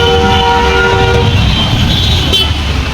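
Pune metro train running loud and close, a continuous heavy rumble with steady tonal hum and a brief horn-like tone near the start.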